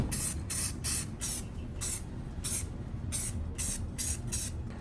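Rust-Oleum flat black spray paint applied to a rear differential cover: a series of short, loud hissing spray bursts, about nine in a row, steady and close with no talk.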